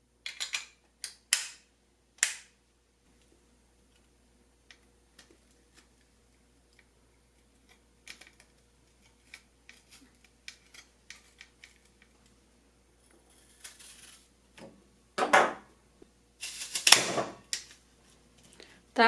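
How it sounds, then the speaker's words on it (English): A NutriChopper pressed down through an apple into thick slices gives a few sharp clicks early on, long near-silent gaps, then two louder crunching, clattering bursts toward the end. "I'll do thick slices."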